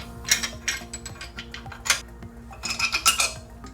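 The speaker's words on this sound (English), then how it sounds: "Start the nuts on there, and let's go ahead and get all 3 bolts in before we go ahead and tighten this thing up." Nuts and bolts being started and tightened on the rear end of a Honda Pioneer 500 side-by-side, giving several sharp metallic clinks and ratcheting clicks in an irregular sequence, close and fairly loud, with no talking.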